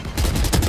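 A rapid burst of gunfire from the shooter game Valorant, several sharp close shots in quick succession with a loud, clipped impact.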